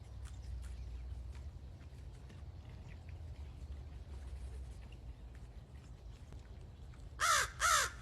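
Two loud, harsh crow caws close by near the end, after a long stretch of low rumbling background with faint distant calls.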